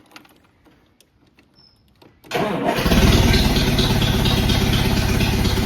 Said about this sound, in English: Now, I don't know if this is going to start.